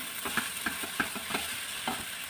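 Garlic frying in a pan, a soft sizzle punctuated by several irregular scraping stirs from a utensil, close and quiet, with no talking.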